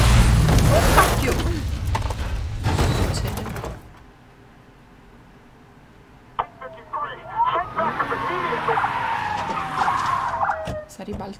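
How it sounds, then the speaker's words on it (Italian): A car skids and flips over in Life is Strange 2, with loud scraping and crashing for the first few seconds, a quieter pause, then clattering effects and a voice. "Si è ribaltata l'auto."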